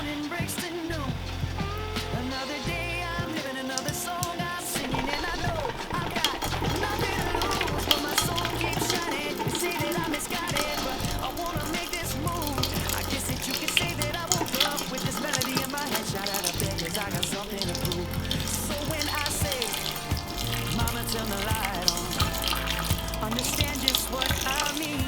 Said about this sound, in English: we're gonna go ahead and turn off the heat, and I'm going to drain out the juice